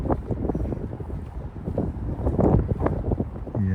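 Gusty wind rumbles steadily against the microphone outdoors, loud and continuous with no clear voices.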